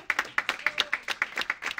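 Audience clapping at a prize ceremony honoring a prince, a steady run of distinct claps at moderate distance, fairly light and rhythmic rather than a full roaring ovation.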